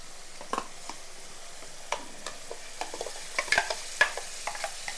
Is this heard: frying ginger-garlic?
yes